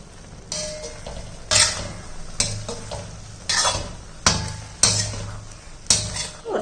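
Metal pot lid and cookware clatter in a kitchen after a weight-loss salad has steamed covered for five minutes, with several sharp clanks and knocks spaced about a second apart, fairly close, without talk.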